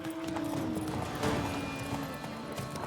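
Horse hooves clatter at a steady galloping rhythm in The Witcher 3, continuous and fairly loud over ambient game background for the whole stretch, with no talking.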